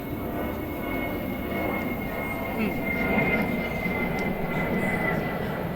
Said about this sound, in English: The airplane is bullying us.